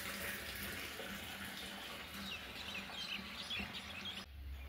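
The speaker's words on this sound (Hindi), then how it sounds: "अभी मैं टैंकी में पानी भर रहा हूँ" Water streams steadily from a pipe into a tank, a continuous rushing splash with faint outdoor ambience and a distant rooster.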